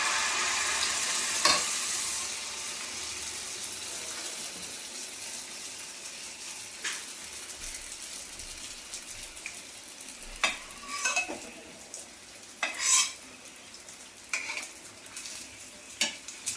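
Pitha puffing up as it fries in hot oil in two woks at once, a steady close sizzle broken by sharp bursts of crackling and clinks of a utensil against the pans.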